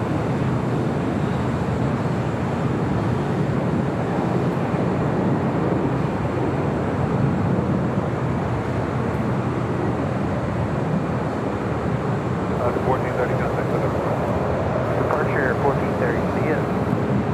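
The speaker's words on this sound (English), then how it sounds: "we got that Dreamliner now short final for 24 right" A Boeing Dreamliner airliner on short final approach to LAX runway 24 right gives a continuous broadband jet roar, fairly loud and unbroken from start to end.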